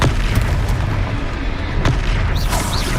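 A Confringo fire spell bursts in a Hogwarts Legacy duel, a loud booming blast with rumbling low end and a few sharp cracks over steady battle noise, no talking.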